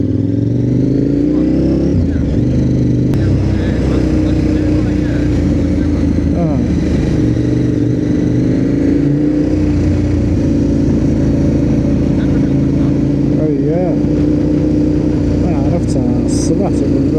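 Motorcycle engine running steadily on a road trip through European countries, a continuous loud mid-pitched drone with slight rises in revs and wind buffeting, voices talking over it throughout.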